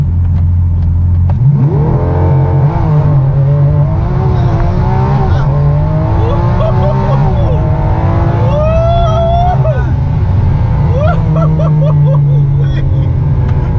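A Lamborghini Aventador engine revs hard on a launch-control start and accelerates, pitch climbing and falling through several gear changes, loud and close, with a low rumble underneath.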